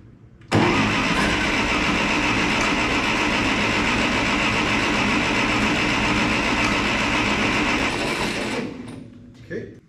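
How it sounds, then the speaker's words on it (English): A Ferguson TO-30 tractor engine cranks on the starter, a loud, steady churning that runs for about eight seconds without catching, then stops abruptly and leaves brief faint clatter. "it seems like sometimes this thing really wants to fire at the moment you let off of the starter"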